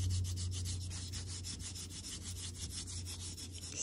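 Steady dry scratchy rubbing across sanded pastel paper being reused for layered pastel work, a close, continuous abrasive swish with regular strokes and no voice over it.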